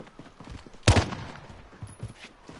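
A shooter game gunfight in a 2v2 tournament, with one loud, sharp burst of gunshots near the one-second mark standing out over a low, busy background of game noise.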